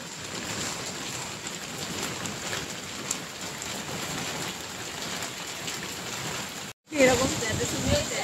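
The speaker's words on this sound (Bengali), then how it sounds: "পুরো চেরাপুঞ্জির মতো বৃষ্টি পড়ছে" Heavy evening rain outside a cafe in Patuli, South Kolkata, pours steadily and loudly, a dense continuous hiss close by, broken by a brief cut before the downpour resumes.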